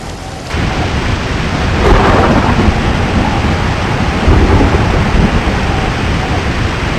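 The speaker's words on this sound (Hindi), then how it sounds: "बारिश हो रही है।" Steady heavy rain with a low rumble of thunder building in, a dense continuous roar throughout, close and loud, with no voices.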